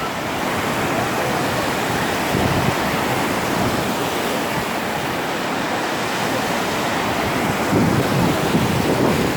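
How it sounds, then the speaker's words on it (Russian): A stormy sea heard from the shore: continuous loud surf roars and crashes steadily, with heavy wind rumble buffeting the microphone and no talk. "Сегодня море штормит."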